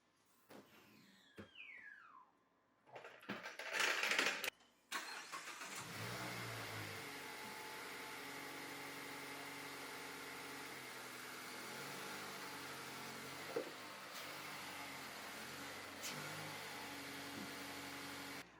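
A 4th-generation Mazda engine cranks and catches with a rev after an oil change, then settles into a steady, continuous idle that runs to the end.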